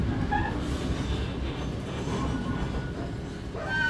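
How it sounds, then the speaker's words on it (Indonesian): The Bima passenger train rumbles at Surabaya Gubeng station in the early morning, a low steady rolling drone with faint high squeals and brake tones near the end. "kereta api Bima sudah sampai di stasiun Surabaya Gubeng"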